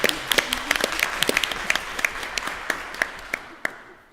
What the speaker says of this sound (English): Now let's give a round of applause for all our speakers.